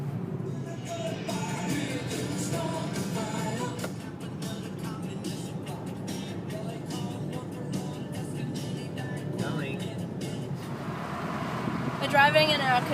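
Wind rushes past while driving down the road in a convertible Mustang, a loud constant roar and buffeting with road noise underneath and a voice faintly heard in the mix.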